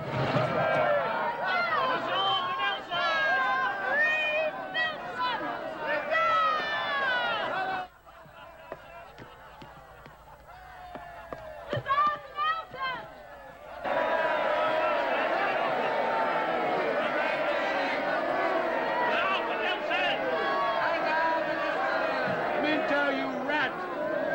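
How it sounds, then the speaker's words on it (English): A large crowd chatters and bustles with running footsteps and raised voices, a loud busy hubbub that drops away for several seconds to sparse, quieter voices before the noisy throng swells back in. "look at that crowd"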